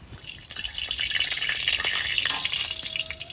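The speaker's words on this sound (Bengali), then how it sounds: "আলুটা আগে ভেজে নেব" Potatoes sizzle in hot oil in a wok, a steady close crackle and hiss with bright spattering that swells slightly, alone with no talk.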